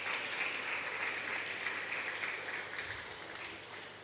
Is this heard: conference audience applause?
yes